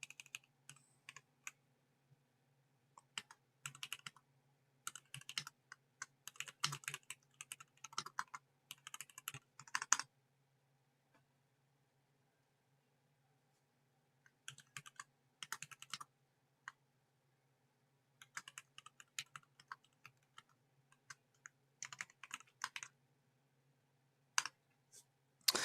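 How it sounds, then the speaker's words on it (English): Bursts of clicky computer keyboard typing in a quiet room, coming in several irregular spells separated by silent pauses. "Sorry, I'm typing right now."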